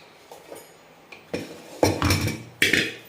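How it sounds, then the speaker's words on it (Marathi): Cooked goat mutton is scooped into a metal pot in a village kitchen, with several sharp clanks and scrapes of spoon against vessel, uneven and close, with no talking. "तर आपण ह्या पातेल्यामध्ये आता काढून घेणार आहे मटण"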